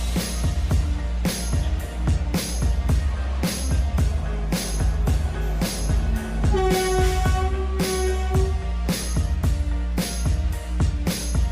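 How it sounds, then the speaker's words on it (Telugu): A train at Vijayawada Junction railway station, a large busy station, rumbles loud and close with rhythmic clanking of wagons and a sustained horn blast in the middle. "విజయవాడ స్టేషన్ వచ్చాక ఇక్కడ 10 నిమిషాల వరకు ట్రైన్ ఆగుతుంది."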